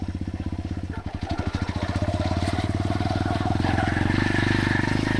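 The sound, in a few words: pitbike motorcycle engine being revved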